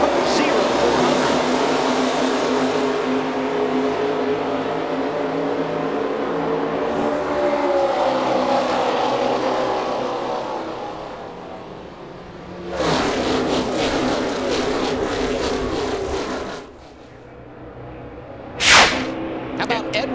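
NASCAR stock cars roar around Daytona at the start of the Coke Zero 400, a loud sustained engine drone with a pack sweeping past, under an announcer's commentary, then a sharp passing burst near the end.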